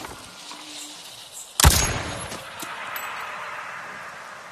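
A single sharp weapon shot in the video game Avatar: Frontiers of Pandora rings out once over a faint background of wildlife ambience, with a lingering tail as the surroundings fall quieter.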